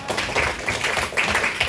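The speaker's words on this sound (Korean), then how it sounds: "박수." Students at a high school council meeting clap briefly, a short burst of close, dense hand claps lasting under two seconds.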